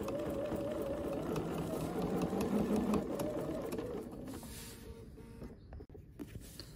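A Bernina sewing machine stitches quilt binding with a fast, even motor whir for about four seconds, then slows and stops, leaving quieter faint handling noises close by.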